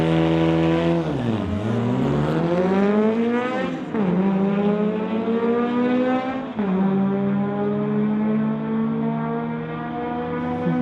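Two 1973 Volkswagen Beetles launch down a drag strip, their engines roaring loud and rising in pitch through repeated gear shifts, each climb dropping back and climbing again as the cars pull away.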